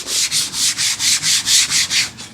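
Sandpaper rubbing over the plastic trim of a 2008 Ford F-150 truck in quick, steady back-and-forth strokes, about ten even passes, close and fairly loud with no talking.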